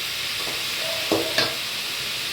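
Steady hiss of food sizzling in hot oil, close up, with a couple of brief scraping stirs partway through.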